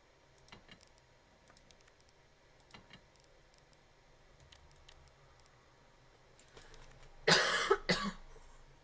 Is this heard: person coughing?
yes